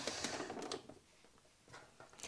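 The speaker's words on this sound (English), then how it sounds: "And you just want to sew that a few mil in from the seam." A sewing machine understitching a trouser seam, running in short quick bursts of rapid mechanical clatter, faint and close.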